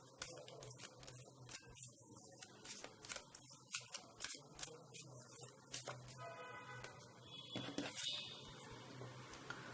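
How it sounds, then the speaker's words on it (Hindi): Oracle cards being shuffled and drawn from a deck, a run of soft, quick papery riffles and flicks, close and fairly quiet, with no talking. "let's pull one of the cards from here"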